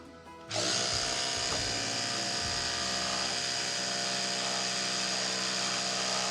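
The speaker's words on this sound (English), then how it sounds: "To test this properly, I'm going to run the toothbrush down to nil." Electric toothbrush motor switches on after a brief thump and keeps up a steady, loud, high-pitched buzz, running continuously to drain its battery.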